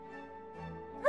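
Dogs barking in a children's educational story game, a brief yelping bark rising at the end over a steady musical background tone.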